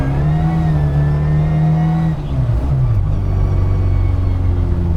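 A supercharged 1310cc Mini Cooper with straight-cut gears accelerates, its engine droning loud and close, then dipping briefly as it shifts and pulling again with a rising whine.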